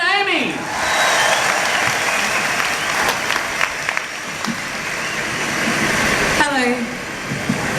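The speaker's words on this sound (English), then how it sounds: "Give her a big Fringe Funhouse welcome, the wonderful Amy Bodossian with a little bit of Salvation Amy" Warm audience applause and cheering welcoming a comedian onto the stage at the Adelaide Fringe Festival, a loud sustained crowd roar with a few whoops rising over the clapping.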